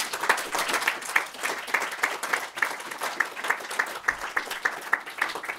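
Audience at a film talk applauding to welcome filmmaker Eugène Green, a steady, moderately loud round of many hands clapping in a room.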